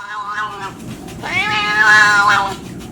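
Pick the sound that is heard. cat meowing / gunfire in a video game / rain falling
cat meowing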